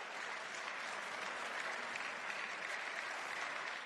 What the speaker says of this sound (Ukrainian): Під тривалі оплески голова Європарламенту Роберта Мецола оголошує результати голосування за резолюцію про визнання Росії державою-спо